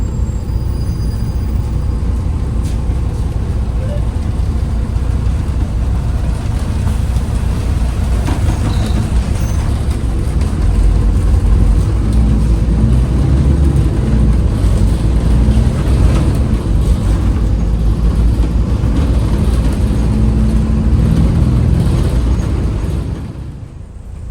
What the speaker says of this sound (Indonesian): Saat di jam sibuk pulang kerja seperti ini memang tidak disarankan keliling kota naik bus karena kita bakal kejebak macet seperti ini